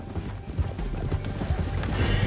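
Horses gallop in Red Dead Redemption 2, with loud, close, rapid clip-clop hoofbeats and a whinny over a dense rumbling background.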